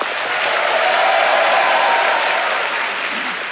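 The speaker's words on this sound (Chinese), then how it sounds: "掌声给本集挑战者——旅发厨师阿陈师" A studio audience claps for a game-show contestant, a loud dense burst of applause that swells and then tapers slightly.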